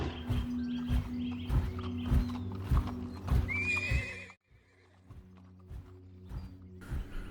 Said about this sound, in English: the horses of the Roman generals, because if you're in charge of an army, you don't walk, you ride on a horse.